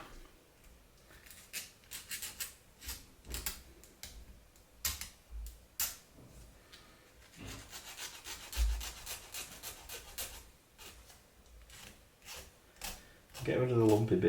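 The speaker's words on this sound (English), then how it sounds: "So I'm going to clamp it quite firm and get a good file." A file rasps against a clamped photo-etched metal part for a 1/24 scale Airfix Spitfire model, with irregular short scraping strokes that come in bursts and pauses, close up and fairly quiet, followed by a louder clatter at the end.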